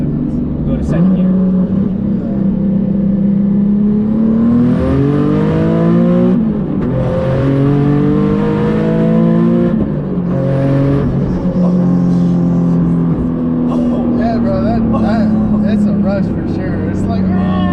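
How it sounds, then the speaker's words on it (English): Nissan 370Z Nismo tuned to about 600 hp, pulling hard in second gear on high boost, engine note climbing loudly through rising revs and shifts, with people talking over it inside the car. "we're gonna do one last pull on the high boost"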